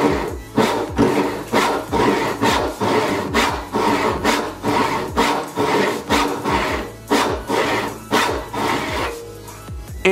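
A hand saw cuts into wood in even, rhythmic back-and-forth strokes, about a dozen in ten seconds, loud and close with a rasping bite on each pass and no talking.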